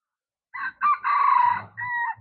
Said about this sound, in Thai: เห็นบ่เสียงไก่ขันพี่น้อง